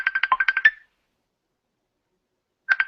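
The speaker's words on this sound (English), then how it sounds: "I'm not sure whether that's my phone ringing or somebody else's ringing" A phone ringtone trills in a rapid warbling burst, falls silent for about two seconds, then starts a second burst, heard up close with no talking.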